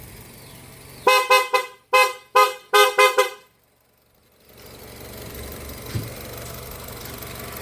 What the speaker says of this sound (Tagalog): PIAA Horn na nagkagtingog.